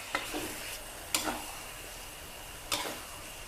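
Pumpkin and egg stir-fried with oyster sauce, a soft steady sizzle in the pan broken by three sharp spatula scrapes and taps spaced about a second apart.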